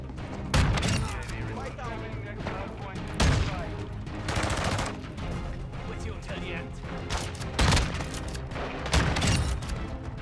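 A Bryson 800 shotgun in Modern Warfare 2 fires several heavy booming blasts, spaced a couple of seconds apart, amid other gunfire and clatter in a busy match.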